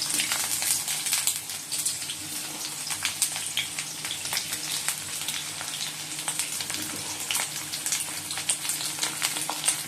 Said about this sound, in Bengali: আলু পটলগুলো ভেজে নিচ্ছি